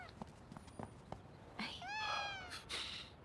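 A house cat gives a drawn-out, rising-and-falling meow, heard once and fairly clearly after a few soft taps and handling noises in a quiet indoor room.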